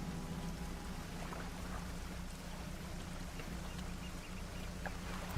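Steady, soft rainfall in the fishing video game Dredge, a continuous hiss of drops over a low droning hum, with no voices.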